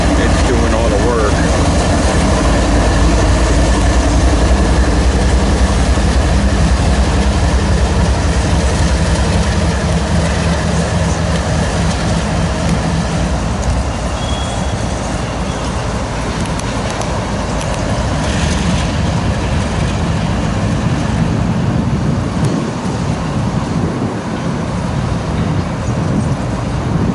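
A CSX freight train backs into Woodbourne station, with a loud, steady diesel locomotive rumble, low engine drone and rail noise running continuously up close.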